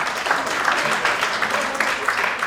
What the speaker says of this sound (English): You can clap for that, it's okay.